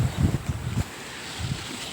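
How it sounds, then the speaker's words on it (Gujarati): A strong gusty wind buffets the microphone outdoors in a village during an unseasonal storm, with low rumbling bursts that rise and fall in uneven gusts, loud and close. "ફૂલ પવન ફૂંકાઈ રહ્યો"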